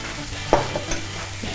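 Cabbage seasoned with paprika and a cumin and coriander mixture is stirred in a pan, giving a soft steady sizzle with a single clack of the utensil and light scraping.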